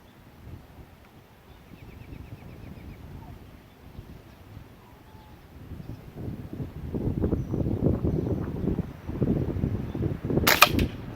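A Discovery air rifle fires a Crosman Premier hollow point pellet outdoors. A single sharp, close crack comes near the end after quiet wind noise and low voices.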